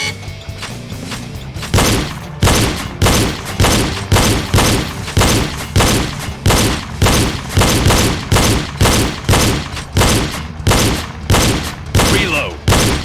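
Pistol shots during a reload drill ring out in a steady rhythm, about twenty loud, close reports roughly half a second apart, with no voices.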